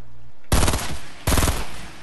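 Two loud, close bursts of rapid video game gunfire, the second starting soon after the first ends, with no talking over them.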